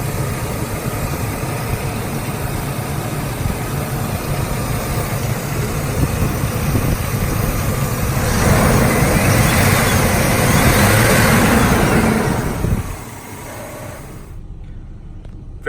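The 4.3 liter Vortec V6 engine of a 2002 Chevrolet S10 extended cab runs at a steady idle, a loud, close, even rumble that swells briefly, then settles lower before cutting off.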